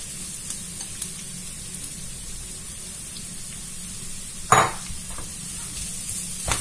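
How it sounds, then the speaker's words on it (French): Sliced onions and carrots frying in a pan for savoury turnovers hiss with a steady soft sizzle, while a spoon stirs now and then, bringing one louder scraping clatter of utensil against pan midway. "Je mélange aussi et après je couvre et je laisse cuire tranquillement"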